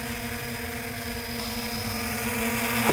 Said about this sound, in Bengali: এতটা হাওয়া হচ্ছে এখানে, হাওয়া প্রচণ্ড হাওয়া, কিন্তু তারপরে ড্রোনটা এক জায়গায় স্থির দাঁড়িয়ে আছে